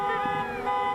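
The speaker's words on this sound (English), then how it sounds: "honking and cheering can be heard for blocks on the eve of Mexican Independence Day" Car horns honk in a sustained, steady blare on a city street in Chicago's Little Village during a crowded celebration on the eve of Mexican Independence Day, loud and close for the whole moment.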